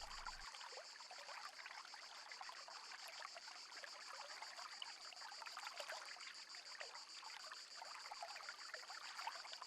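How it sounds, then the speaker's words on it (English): A small forest stream carrying little water in the dry season trickles steadily and faintly, a continuous quiet wash heard alone with no voices. "The streams carry very little water."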